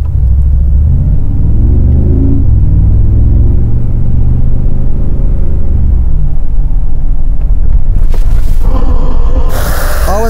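A Mercedes-AMG driven on a track with ESP switched off gives a loud, continuous engine roar with rising and falling revs, then sharper bursts near the end.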